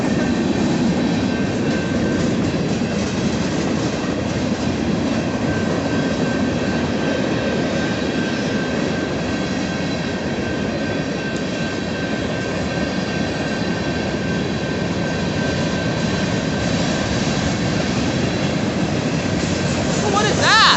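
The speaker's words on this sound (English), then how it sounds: "Oh, we have a green, but it's a freight train." A BNSF northbound freight train led by several locomotives rolls past at steady volume, a continuous rumble and rail clatter lasting the whole stretch, with a high steady tone running through it and no talk.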